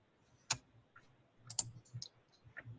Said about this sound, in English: Still hearing clicking.